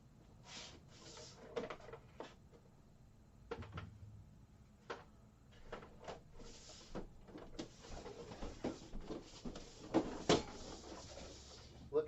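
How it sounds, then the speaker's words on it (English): Art-supply drawers clatter open and shut during a search for a deep red pastel, with scattered light knocks, slides and taps spread through a quiet room at close range, no talking. "Looking through the drawers."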